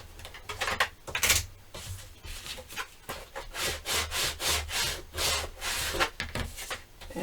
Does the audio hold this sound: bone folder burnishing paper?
yes